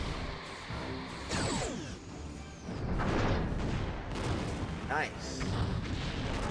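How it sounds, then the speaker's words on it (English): Torpedoes fired at a ship in Star Trek Bridge Commander, a run of booming launches and impacts with whooshing sweeps, heard over game sounds while someone briefly speaks. "Why'd you waste more torpedoes on a dead thing?"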